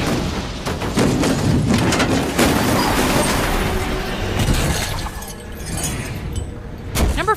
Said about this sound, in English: Cars smashing, cars flipping through the air, cars dangling on chains.